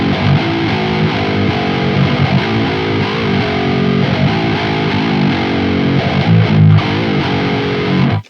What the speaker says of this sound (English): what I'm curious about hearing with the 8-string model is how well we can still hear the pitches with distortion